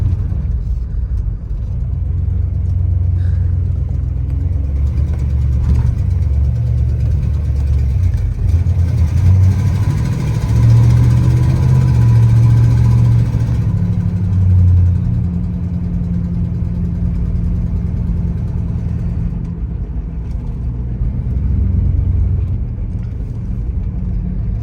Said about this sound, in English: First taking off, it don't like that. Without having that shot of gas that it needs.